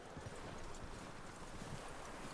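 Faint hooves clip-clop at a steady walking rhythm in Red Dead Redemption 2, soft and low under a light wind-like background hiss.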